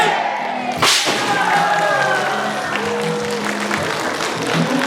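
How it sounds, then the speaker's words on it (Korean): A crowd claps and cheers at the completion ceremony for a community and culture center in Geumnam-myeon, Sejong. A sharp bang rings out near the start, then loud applause carries on, mixed with shouting and a few voices. "여러분들의 박수와 그리고 함성이 필요한 순간인 것 같습니다"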